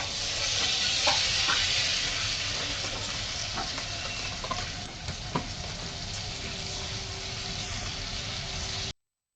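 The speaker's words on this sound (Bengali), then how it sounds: "এইভাবে সুন্দর করে আমি ঝুড়িগুলো ভেজে নেব" Peanut jhuri, a crisp gram-flour snack, frying steadily in hot oil, with continuous loud bubbling and sizzling, a few utensil clicks over it, and the sound stopping abruptly at the end.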